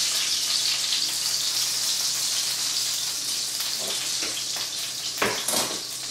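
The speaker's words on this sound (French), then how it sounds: "On va maintenant retirer les magrets et les mettre dans une autre poêle." Duck breasts sizzle in a frying pan with a steady bright crackle, then clatter and sputter as they are lifted into a second pan, close by and with no talk.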